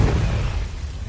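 A Confringo fire spell bursts in Hogwarts Legacy, a short, dense boom with a rumbling low-end tail fading over about a second.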